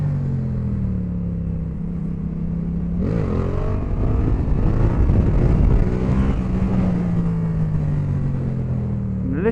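Yamaha MT-07 motorcycle idling, then the throttle snaps open for wheelie practice, its engine surging loud and near before easing back down.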